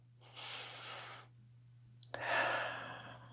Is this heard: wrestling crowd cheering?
no